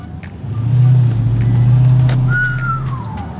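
Lexus LS460 V8 engine revving, a loud, deep, close rumble that swells and holds steady before easing off, with a brief high whine or squeak near the end.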